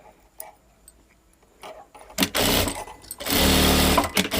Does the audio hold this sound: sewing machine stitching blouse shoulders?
yes